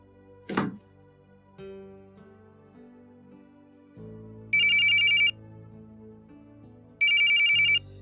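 Telephone ringing indoors in a household scene, two short loud bursts of electronic trilling ring separated by a pause, preceded by a dull thunk and low background hum, no speech.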